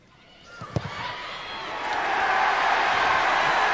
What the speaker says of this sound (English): they can probably hear that cheer from the Leicester supporters back in the city